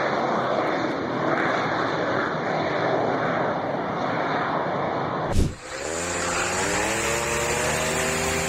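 A Harrier jet flies, giving a loud, continuous roar with a sharp burst midway, after which the engine tone sweeps down and settles into a droning pitch.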